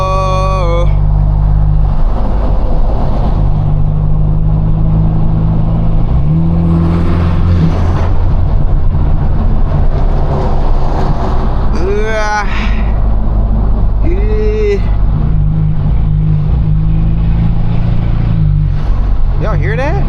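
A straight-piped stage 2, 500 hp BMW 428i pulls hard from inside the cabin, its exhaust roaring loud and continuous with rising and falling revs through shifts, with voices talking over it.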